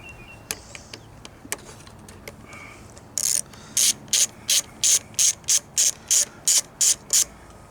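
A ratchet wrench clicks in quick bursts on a Jeep YJ battery terminal, close and crisp, with a few isolated taps before a regular run of about a dozen rhythmic ratcheting strokes.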